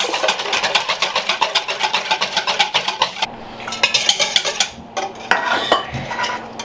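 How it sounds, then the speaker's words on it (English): A spoon stirs a strained homemade holiday drink in a container, clinking rapidly and rhythmically against the sides, with brief pauses before the stirring resumes. "And now we want to stir this."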